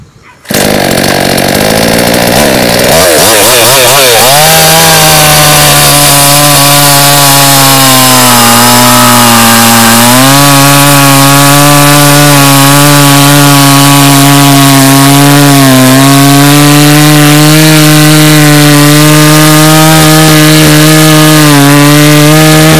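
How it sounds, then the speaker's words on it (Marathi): An Agrineer chainsaw bites into a wooden log. After a brief quiet start the engine roars up loud and close, then holds a steady, buzzing, high-pitched whine with slight pitch dips as it cuts for about twenty seconds. "बघितलं आता आपण की ॲग्रीनीर ॲग्रो मशिनरीचा जो चेनसॉ आहे"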